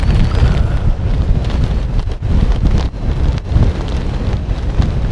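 Strong wind gusts of up to about 30 mph batter a one-person tent, a Hilleberg Akto or Soulo RL, in a loud, continuous roaring buffet that surges and dips briefly with no voices.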